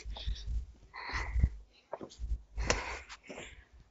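Heavy panting after a climb to the 10,000 Buddhas, close, rhythmic breathy gasps and wheezes in quick bursts, with a few muffled vocal sounds mixed in.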